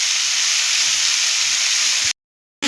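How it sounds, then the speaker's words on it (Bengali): Vegetables and an ilish fish head fry in a pan, making a loud, steady close-up sizzle with faint low bubbling that cuts to silence for a moment near the end, then returns. "এবার এটাকে আমি ঢাকা দিয়ে ভেজে নেব।"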